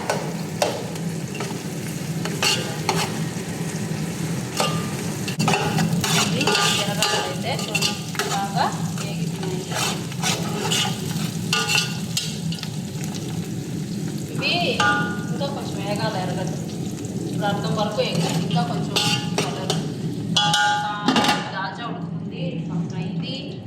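Spices, mushrooms and meal maker chunks for a vegetarian biryani sizzle loudly in a pan, with repeated spatula scrapes and clinks throughout and a voice talking over the frying.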